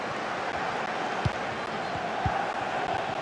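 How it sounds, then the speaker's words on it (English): Stadium crowd at a simulated Manchester United versus Brighton Premier League match in EA Sports FC 24, a dense steady roar of distant fans with a few faint thumps, no clear speech. "The crowd certainly think so. Just listen to them."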